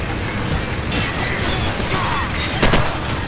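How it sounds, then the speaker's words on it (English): Gunfire and explosive bursts from a firefight in Call of Duty 4 aboard a cargo ship, loud and continuous with a sharper crack near the end, with a flashbang thrown amid the battle noise. "Flashbang out."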